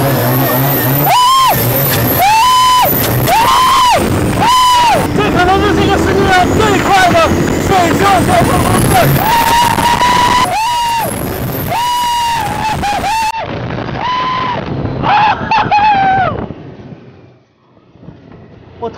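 A speedboat engine roars loudly and steadily during a water race in Thailand, nearly continuous, with excited voices talking over it throughout.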